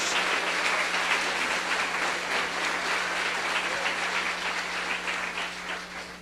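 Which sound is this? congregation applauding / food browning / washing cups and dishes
congregation applauding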